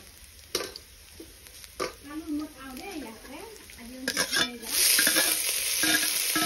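Fish frying in hot oil in a home kitchen, a close steady sizzle with stirring noises, under women's chatter that gives way to louder frying near the end.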